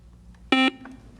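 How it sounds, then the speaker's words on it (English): A quiz show buzzer sounds once, a loud, steady electronic tone lasting about a fifth of a second and marking the end of a high school academic competition game, with faint room sound around it. "And that buzzer is the end of our game."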